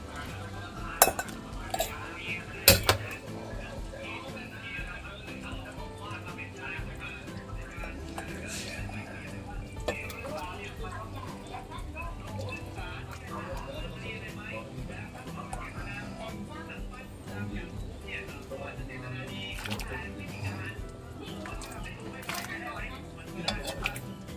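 Thai green chicken curry is ladled into a bowl in a home kitchen, with repeated clinks of a ladle and utensils against dishes and pots, a few sharper knocks standing out, while someone talks throughout.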